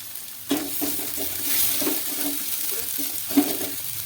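Banana flower curry stir-frying with spices in a pan, a steady close sizzle with repeated scraping stirs and a couple of sharper clanks from the spoon, no talk.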